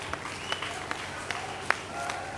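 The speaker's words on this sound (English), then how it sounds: "It's a wonderful round of applause for our daddy." Scattered, faint clapping from a small audience at a church funfair, a few sharp claps over a quiet room rather than a full ovation.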